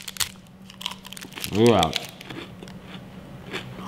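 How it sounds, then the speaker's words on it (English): Someone bites into a Canadian sponge toffee chocolate bar, giving one short, close crunch, with a voice briefly speaking over it and a pitched vocal sound rising in the middle. "Crunchy sponge toffee."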